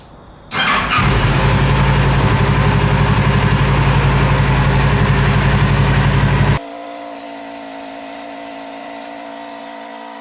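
A home-built micro van, aimed at 100 mph, cranks and fires, then runs loud and steady for several seconds before the engine cuts off, leaving quieter background sound.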